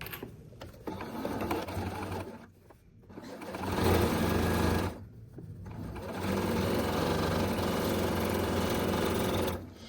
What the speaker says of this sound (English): When I top stitch, it's about 1/8 of an inch, give or take, off of the edge.